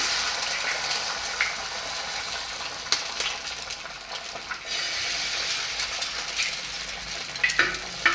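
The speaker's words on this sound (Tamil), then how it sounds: "அடுத்ததாக வாங்க இப்போ ஆம்லெட் செய்ய போகிறேன்." Two eggs fry as an omelette in hot oil with a bright, continuous sizzle, broken by a few light clinks and scrapes of a utensil near the end.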